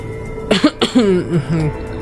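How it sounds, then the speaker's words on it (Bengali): A short, forceful throat clearing and cough from a nearby voice, a couple of harsh bursts followed by a low rumbling hum. "খুব করে একটু কেশে গলাটা পরিষ্কার করে নিয়ে"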